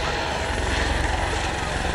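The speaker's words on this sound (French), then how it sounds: "C'est un hélico extrêmement manœuvrant" Eurocopter EC-120B Colibri helicopter with a Turbomeca Arrius turbine of about 600 horsepower, maneuvering nearby as a loud, steady broadband roar with a low rotor throb that holds for the whole stretch.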